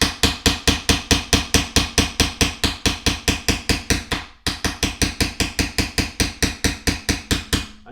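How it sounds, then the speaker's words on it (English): A light hammer taps a Starrett pin punch to drift a pin out of an 1873 Trapdoor Springfield rifle, a steady, rapid series of sharp metallic strikes, loud and close, with a brief pause midway and no talk. "I'm using a very light hammer because I don't want to just whack this thing."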